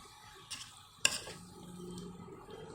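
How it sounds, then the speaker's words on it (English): A spoon scrapes and stirs chicken curry masala in a cooking vessel over the flame, with a sharp clink of metal near the start and a soft sizzle continuing underneath. "Stir it properly."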